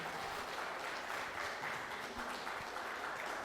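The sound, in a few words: audience applause for a guest coming forward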